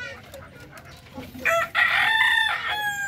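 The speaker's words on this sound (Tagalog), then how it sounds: "legit po ito ng mga pure darag native chicken galing ng Iloilo" A pure Darag native rooster from Iloilo crows loudly, its long harmonic call rising after a stretch of quieter farmyard murmur and holding strong to the end.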